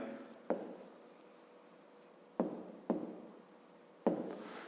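Hand writing of a math equation for a fifth-grade exercise: quiet, close scratching strokes of a pen on paper, with four sharper taps as each new stroke or mark begins, and no talk.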